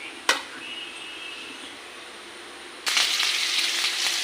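Hot oil sizzling steadily in a pan, with a brief clatter near the start and a louder, brighter sizzle swelling toward the end as the heat rises, no voices, ahead of frying spices for a ghugni made with goat fat.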